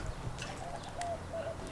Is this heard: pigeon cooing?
yes